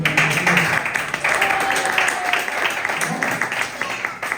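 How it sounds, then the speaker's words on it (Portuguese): A church congregation at a deliverance service applauds the Lord. Broad, sustained clapping mixes with voices and tonal sounds, staying loud and fairly even with small surges. "Aplauda o Senhor"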